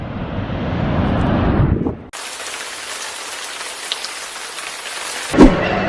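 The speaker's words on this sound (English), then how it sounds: "it's raining like mad outside" Heavy rain pours steadily at Niagara Falls, Canada, then cuts to a brighter, hissing downpour with a brief knock near the end.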